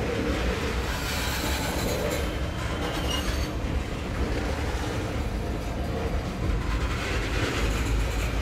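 A freight train led by a CN locomotive with a UP SD70 second passes at an old Illinois Central railyard, its steady rolling rumble dense with wheel squeal and clatter throughout, loud and close, with no talking.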